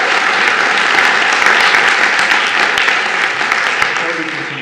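Audience applause at a city planning commission meeting, a loud, dense burst of many hands clapping together indoors that holds steady and then begins to thin out toward the end.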